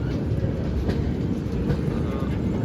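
Hazrat Nizamuddin Goa Express pulling into Jhansi Junction at night, a heavy low rumble with faint rhythmic wheel clatter, continuous and close.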